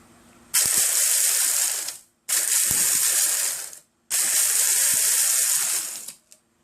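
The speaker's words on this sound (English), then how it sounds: "we put it in the processor bowl, and we just pulse until we have a fine powder" Food processor pulsing ingredients down to a fine powder: three loud, harsh whirring bursts of about one and a half seconds each, separated by short pauses, close and alone.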